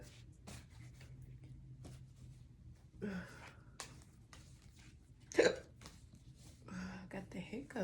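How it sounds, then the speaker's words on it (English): Hiccups from a person with a stuffy nose, a few sharp brief catches spaced through quiet breathing and rustling, close to the mic, with one louder jolt near the middle. "I got the hiccups."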